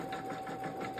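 Brother Innovis Quattro 3 embroidery machine stitching, a quick regular mechanical chatter of about five pulses over a steady hum, close and fairly quiet.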